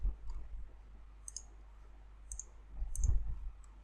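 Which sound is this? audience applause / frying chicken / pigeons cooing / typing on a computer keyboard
typing on a computer keyboard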